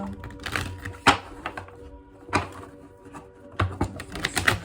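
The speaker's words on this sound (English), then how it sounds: "Just give a little shuffle." Oracle cards are shuffled in a few quick bursts, crisp riffling clicks and taps separated by short pauses.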